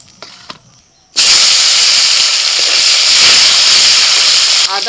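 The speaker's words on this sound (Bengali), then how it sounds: "বেগুনগুলোকে একটু ভেজে তুলে নিলাম" Brinjal slices fry in hot oil with a loud, steady hiss and crackle that begins abruptly after a brief quiet stretch and continues close and strong, easing off right at the end.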